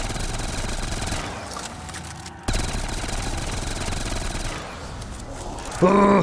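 MG42 machine gun fire in a modded Call of Duty Zombies game, dense sustained bursts of gunfire with explosive clatter, loud and continuous, briefly cut off once before resuming.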